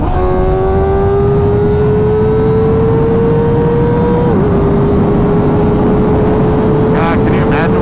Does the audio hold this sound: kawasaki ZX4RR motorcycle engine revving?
yes